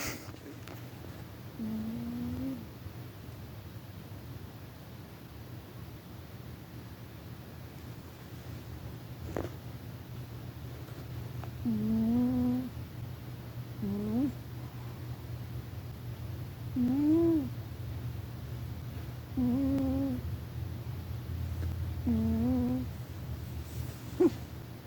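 A sleeping cat snores in a quiet room, soft, regularly spaced nasal rasps coming every few seconds over a low background hum, close but faint.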